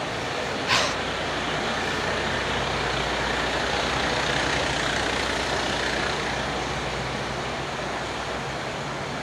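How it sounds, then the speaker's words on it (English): A small truck rumbles past on a Midtown Manhattan street, a loud, steady engine roar over constant city traffic, with one brief sharp rattle near the start. "That little truck made too much noise for being that little"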